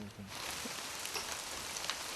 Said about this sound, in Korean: 그때 갑자기 또 비가 내리기 시작했다.